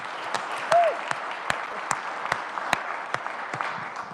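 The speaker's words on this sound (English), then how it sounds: "you're going to stand up and you're going to get your applause" Applause in a Senate chamber: modest, steady clapping from a seated group, moderately close, with a brief voice near the start.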